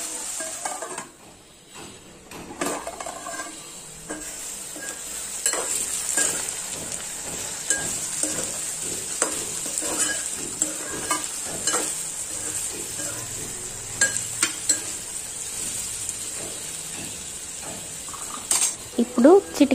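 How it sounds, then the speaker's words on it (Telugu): Spiny gourd stir-fries in a pan, sizzling steadily as a utensil repeatedly scrapes and clinks against the pan, the stirring close and continuous. "వీటన్నిటిని కలిపి ఒక 5 నిమిషాల పాటు ఉడికించండి."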